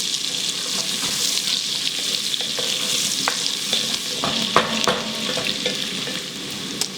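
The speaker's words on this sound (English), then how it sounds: "We're just gonna cook the carrots and celery till they get a little bit soft." Carrots and celery sizzle steadily in a hot pan, a continuous bright frying hiss with occasional stirring clicks and scrapes, close and fairly loud with no talking.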